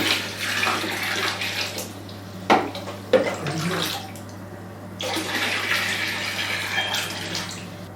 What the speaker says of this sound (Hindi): एक बार फिर पानी डालेंगे।